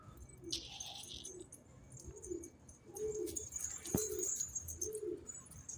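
Pigeons in a loft give soft, repeated low coos at a regular pace, faint and close, with a few small chirps and light rustling between calls.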